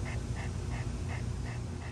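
Cooper, a Cockador dog on a hot summer day, pants in a quick, even rhythm of about three breaths per second, close and steady under a constant background hum.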